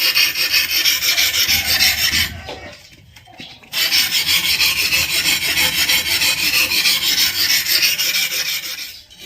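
A heavy-duty Hmong knife blade rasps back and forth against a wet sharpening stone, loud and close, in long continuous gritty strokes with one brief pause in the middle.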